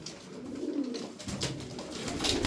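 Tumbler pigeons coo softly in low, rolling calls, with faint rustling and a few brighter bird sounds nearby; no one speaks.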